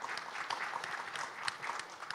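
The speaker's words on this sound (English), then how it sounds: "Please give Richard a round of applause." A conference audience at a social impact assessment gathering gives a faint, distant round of applause, a soft scattered patter of clapping with no voices.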